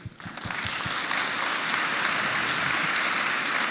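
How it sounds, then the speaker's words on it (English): Audience applause for a speaker at a lecture event swells within the first half second into steady, dense clapping that holds for several seconds, filling the hall with no voices over it. "So we can have an applaud for Siri."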